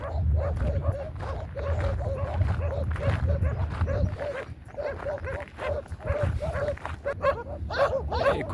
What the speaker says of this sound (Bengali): এই কুকুরগুলো কিভাবে যেন খবর পেয়েছে এখানে আমি আসছি বা দেখাইতেছি।